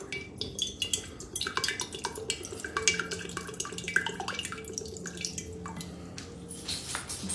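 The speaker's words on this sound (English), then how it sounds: "Now I'm going to use 1/4 of a cup of the red wine vinegar" Red wine vinegar trickles and splashes into a bowl of homemade Italian vinaigrette, with soft liquid drips and light clinks of dishware, close and quiet, and no one speaking.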